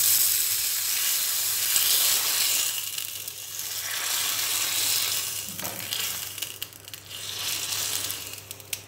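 Hot mustard seed tempering is poured into drumstick rasam, giving a loud, steady sizzling hiss that swells and fades over several seconds with no talk.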